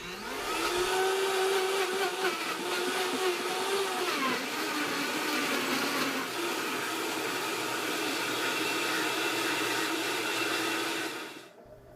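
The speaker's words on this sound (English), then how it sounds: "In just under 60 seconds, the Vitamix broke down the ingredients and started blending on its own." A Vitamix Professional Series 500 blender ramps from variable speed 1 up to high speed. Its loud motor whine climbs in pitch, settles into a steady roar as the ingredients break down, then cuts off near the end.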